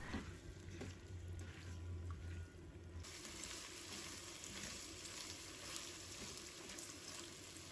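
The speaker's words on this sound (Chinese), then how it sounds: "把海参放入锅中，把它爆炒一下" Sea cucumber stir-frying in chicken fat and scallion oil makes a continuous, fairly faint sizzle and crackle in a wok, steady throughout with a constant background hum and no talking.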